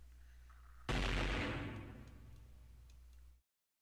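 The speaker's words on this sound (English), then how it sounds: "Confound it! More explosions?" A loud explosion bursts in the video game Hatoful Boyfriend: Holiday Star, a sudden heavy blast with a rumbling decay lasting a few seconds before cutting off, with no talking.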